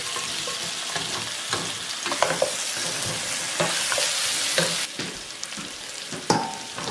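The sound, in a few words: pre-cooked meat added to pan and stirred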